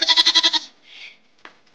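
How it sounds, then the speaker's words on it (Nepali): A goat lets out one loud, close bleat with a quick wavering tremolo of about seven pulses, followed by a faint softer cry and a brief knock in the quiet that follows. "बाख्रा चाहिँ करायो"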